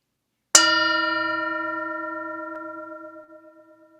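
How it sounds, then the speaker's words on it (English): A meditation bell struck once during a Sunday morning church service, giving a bright clear strike followed by a long sustained ringing tone that slowly decays, alone in a quiet room. "I'll invite the bell to sound."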